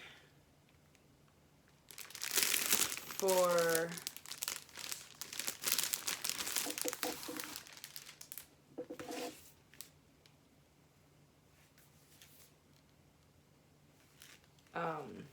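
Packaging of a MacBook Pro protective wrap and keyboard cover color kit being opened: loud, close plastic crinkling and tearing in a long burst, then shorter rustles, with someone talking in between.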